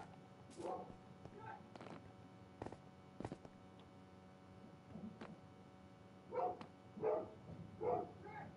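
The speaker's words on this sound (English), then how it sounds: "If you guys hear dogs barking in the background" Dogs bark faintly in the background of a quiet room, in a few isolated yips early on and a cluster of three barks near the end. Small clicks are scattered between them.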